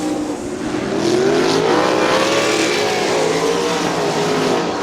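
Sprint cars race on a dirt oval at Crystal Motor Speedway during a heat race, engines roaring loudly and continuously with shifting, sweeping pitch as the cars circle.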